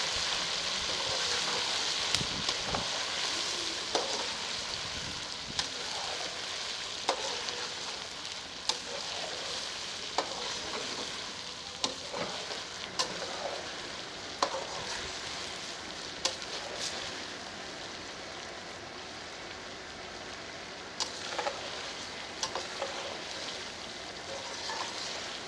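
Ginger garlic paste frying in a karahi while aloo karahi is made: a steady, bright sizzle runs throughout, with faint clinks of stirring.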